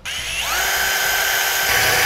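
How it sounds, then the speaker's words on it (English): A power drill whines steadily while boring holes into a tow brake mounting bracket for an RV with air brakes, a continuous high-pitched spin that shifts pitch slightly as it bites in, loud and close. "Now I'm going to drill these out so I can mount it up."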